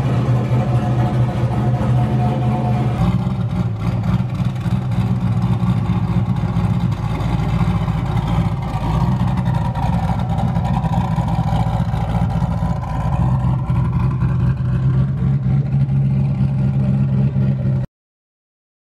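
A car engine runs continuously at close range, a steady mid-pitched drone with slight rises in revs, holding unbroken for about eighteen seconds before cutting off abruptly, with no talking.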